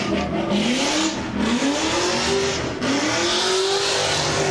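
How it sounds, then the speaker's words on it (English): A Fox body race car revs hard on the track at a birthday bash event at PBIR, loud rising engine sweeps climbing in pitch again and again, close and continuous, with faint crowd noise beneath. "There is a Fox body on track right now, and this car is extremely He's out loud"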